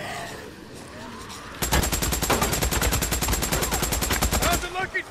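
Rapid automatic gunfire in the video game Days Gone while fighting a horde, a steady burst of about three seconds of evenly spaced shots aimed at a gas canister, after a quieter stretch of ambient game sound.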